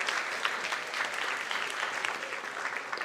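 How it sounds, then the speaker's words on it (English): Applause from an audience at a live morning talk event in New York, a steady dense wash of clapping hands sustained for about three seconds without pause or voices. "let's give them another round of applause"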